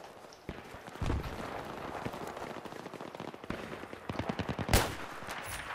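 Gunfire in Bolt Action during a Team Deathmatch sniping round on the Death Valley map, with scattered distant shots and a few sharper close cracks, one especially loud near the end, over a busy battlefield background.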